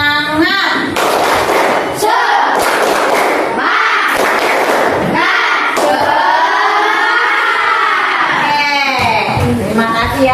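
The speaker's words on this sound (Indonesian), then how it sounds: "yuk kita lakukan tepuk semangat" Primary school class doing a tepuk semangat cheer, a chorus of children's voices chanting together with sharp rhythmic claps and thumps, loud and close, filling the room.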